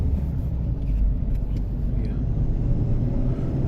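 Cabin of a diesel Mahindra XUV700 base model on a rough road, filled with a steady low rumble of engine and road noise.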